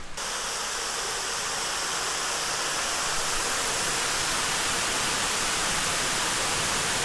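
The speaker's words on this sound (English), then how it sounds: "you can hear in the background the sound of running water coming down the hillside" Running water rushes down a hillside beside the old site of a water wheel near a historic iron furnace, a constant broadband roar that stays steady and fairly loud from start to finish.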